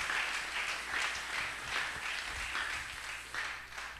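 A church congregation applauds and cheers in a sustained, dense wash of clapping that swells and dips over several seconds, loud and close, with voices mixed in.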